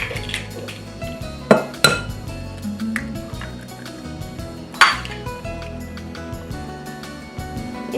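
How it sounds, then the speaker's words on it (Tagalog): Two eggs cracked against a bowl into flour while making an ube leche flan cake: a few sharp, bright clicks and taps at separate moments over steady background music and light kitchen clinks. "Basagin ng 2 piraso ng itlog ang harina."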